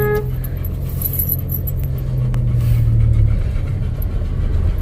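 Vehicles start moving through a railway crossing once the gate opens, with a near car engine humming and revving over steady traffic rumble, and a brief jangle of keys early on.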